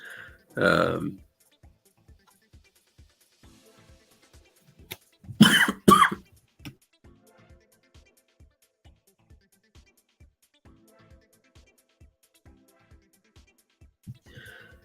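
Two short bursts of coughing, one early and a harsher, louder pair midway, with a faint regular ticking in the background between them.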